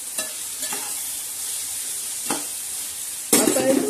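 Cluster beans sauté with tomatoes, green chillies and garlic in a pan, a continuous sizzle broken by a few spatula stirs and a louder clatter near the end.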